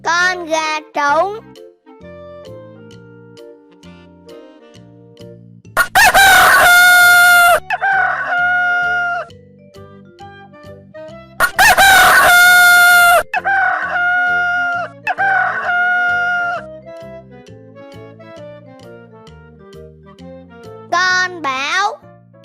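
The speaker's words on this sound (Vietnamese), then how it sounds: "Con gà trống." A rooster crows loudly twice, each long cock-a-doodle-doo rising over light, bouncy children's music, with brief clucks and a short child-like voice near the ends.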